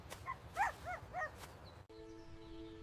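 A small puppy gives a few high, yappy barks in quick succession, fairly close, then a steady tonal hum takes over.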